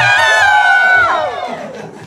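An audience at a Mother's Day celebration for a Miss Universe Philippines Quirino 2024 titleholder cheers loudly, with one shrill drawn-out shriek rising above the crowd noise before it fades.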